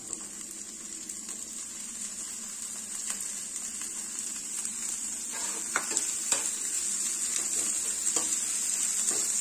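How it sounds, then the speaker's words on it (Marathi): Capsicum being tossed in with softened onion in a pan, giving a steady, continuous sizzle with occasional light stirring clicks and scrapes throughout. "सो शिमला मिरची देखील हलकेसे आपण परतून घेणार आहोत।"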